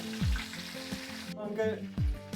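Chicken frying slowly in oil for a beer chicken dish, a soft continuous sizzle running under low background hum, with a couple of dull knocks and a brief tonal sound in the middle.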